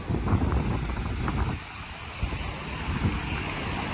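Fast-flowing floodwater rushes along Electra Street in Abu Dhabi after heavy April rains, a close, loud and continuous churning roar mixed with wind buffeting the microphone, with no talk.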